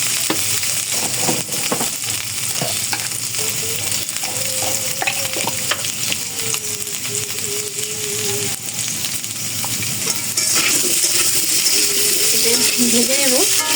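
Peeled potatoes fry in hot oil in a home kitchen, a steady loud sizzle running throughout with occasional stirring clinks, while someone talks softly over it.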